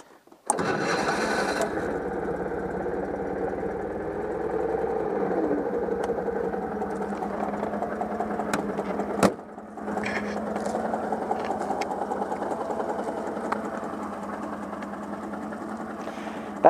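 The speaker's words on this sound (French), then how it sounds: "le moteur tourne très bien" A Citroën 2CV's small twin-cylinder engine idles steadily with a buzzy, slightly uneven putter, heard close and continuous after a brief clatter at the start, with a momentary dip midway.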